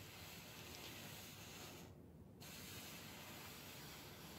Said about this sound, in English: That is the lovely sound of steam.